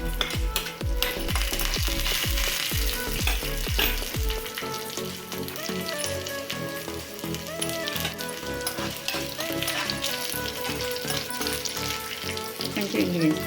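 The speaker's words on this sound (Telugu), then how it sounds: "మనం తీసుకునే ఎండుమిరపకాయలు కూడా ముక్కలు చేసి ఈ పోపులో వేసేస్తాం." Broken dried red chillies, garlic, mustard seeds and fenugreek sizzle loudly in hot tempering oil for gongura pulusu, a continuous close crackle and spatter with clattering stirring strokes throughout.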